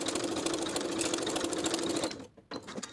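A sewing machine bastes a welt onto a dress piece, running in a fast, steady close whir that stops briefly near the end before restarting, with no speech.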